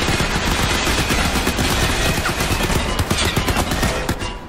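Rapid, continuous gunfire from a weapon in the first-person shooter Crysis 3 tutorial level, a dense, loud stream of shots lasting several seconds with no talking.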